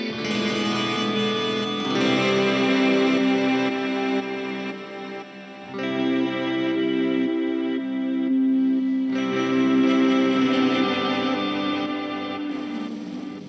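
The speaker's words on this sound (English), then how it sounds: "It's a reverb and delay. Reverse reverb" Electric guitar, played on a Rickenbacker 480, through an Old Blood Noise Rêver reverse reverb and delay pedal, sustained chords swelling and washing with heavy ambient trails, loud and continuous with brief dips between phrases and no talking.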